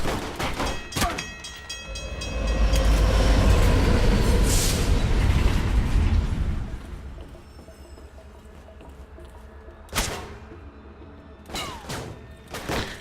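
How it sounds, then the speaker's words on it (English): A train in the Alpha Protocol video game thunders along the tracks and runs over characters, a loud rumbling pass in the middle flanked by sharp impact and gunfire-like bursts before and after. "Hilariously enough, if you wait long enough, the AI will sometimes just blunder across the tracks and get run over by a train"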